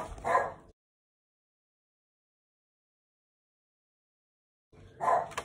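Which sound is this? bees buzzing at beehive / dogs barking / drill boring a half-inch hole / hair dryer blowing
dogs barking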